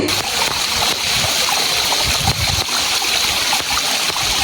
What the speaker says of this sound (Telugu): ఇక్కడ చూడండి అసలు వాటర్ సౌండ్ ఎంత బాగుందో మీరే వినండి